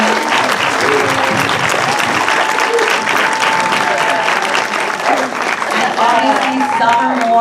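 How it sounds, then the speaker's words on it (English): An audience at a film festival Q&A gives a long, loud round of applause for a panel of female filmmakers, the clapping steady throughout with some voices and cheers mixed in. "Let's give a round of applause one more time for these amazing women."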